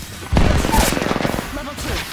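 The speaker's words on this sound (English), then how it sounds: "The enemies are shooting at me." Enemy gunfire in an Apex Legends match, a rapid burst of loud close shots over a booming rumble, with a voice speaking underneath.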